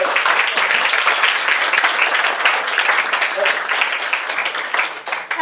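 Loud applause from a standing audience at an MBBS success-stories event, dense clapping that holds steady and tapers slightly toward the end.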